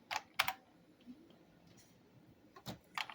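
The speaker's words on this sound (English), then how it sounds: "Typing with one hand, so bear with me here." Someone types slowly with one hand on a computer keyboard, producing a few sparse, crisp clicks in small clusters separated by pauses, close and fairly quiet.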